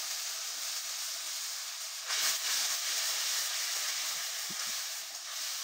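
Spice mixture poured into a hot pan with cumin, a bay leaf and green chillies for a rohu fish and pointed gourd curry gives a steady, loud sizzling hiss that swells briefly partway through, with no talk.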